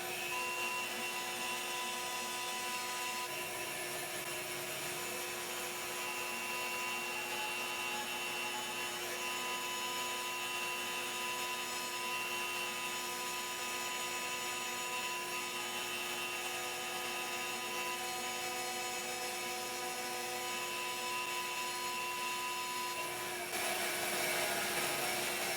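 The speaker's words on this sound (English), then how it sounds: "they're then shaped rough on the bandsaw" A bandsaw cuts the rough shape of a thick wooden bar stool part, rear leg section, a steady loud whine with a constant high buzz running unbroken for most of the stretch, with no talking.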